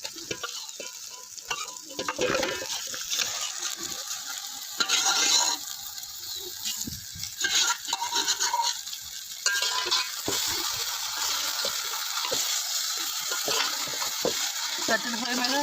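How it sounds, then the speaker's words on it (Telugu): Fish pieces sizzling in a pan of fried onions for a fish curry, with a steady frying hiss throughout, broken up by louder bursts of stirring and scraping close by. "చేప ముక్కలండి ఉల్లిపాయలు వేగినాయిగా దాంట్లో వేసేసుకోవాలి"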